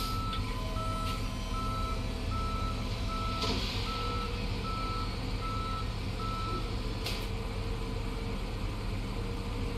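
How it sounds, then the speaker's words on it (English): A tow truck in the Police Simulator: Patrol Officers video game backs up, its reversing alarm beeping steadily over a constant loud engine and traffic rumble. "I love the tow trucks they put in this game."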